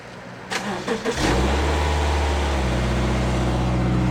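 A car engine with a freshly cleaned throttle body cranks a few times, catches, and settles into a steady low idle, close and fairly loud.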